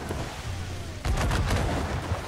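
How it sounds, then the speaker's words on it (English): Ship mortar shots firing in the Assassin's Creed IV Black Flag video game, a rapid burst of several loud booming blasts following a low rumble, with no talk. "Mortar shots. Can I get a mortar shot in range?"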